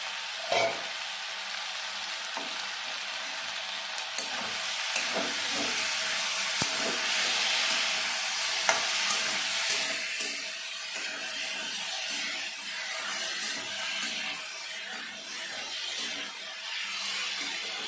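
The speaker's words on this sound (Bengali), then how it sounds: "দেখুন আমি ভালো করে কষিয়ে নিয়েছি" Taro and tilapia fish curry stir-frying in a pan, a dense continuous sizzle and hiss of hot oil lasting throughout, with occasional faint scrapes and clinks of stirring close by.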